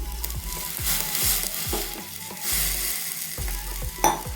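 A spoon stirs thick rice flour batter in a pot of boiling water with repeated scraping strokes in a steady rhythm, over a constant sizzling hiss.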